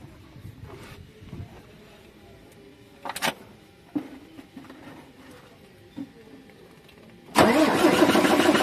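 A MAN TGA truck diesel engine with a low-pressure fuel fault cranks in several short, separate bursts, then catches and settles into a loud, steady run close by.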